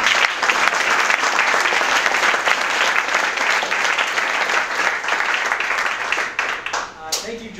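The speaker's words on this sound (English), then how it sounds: "Let's have a round of applause for John." An audience at a JavaScript panel event gives a round of applause, loud dense clapping from a crowd that holds steady for several seconds before thinning out at the end.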